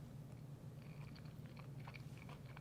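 A close, quiet bite and chew through spicy beef kebab with rice, pickled onion and tzatziki, with a few soft crunches and moist chewing sounds over a low background hum.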